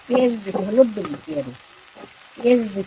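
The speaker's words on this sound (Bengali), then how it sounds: "রসুন মরিচ বাটা দিয়া এটি মাছ ভাজা ভাজা করবো" Fish fries in a pan on a clay stove with garlic and chili paste, a soft sizzling layer heard beneath a person's voice that speaks in short bursts.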